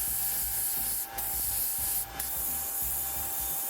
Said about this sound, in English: So right now I'm spraying the sealer, and I'm using the first can of paint.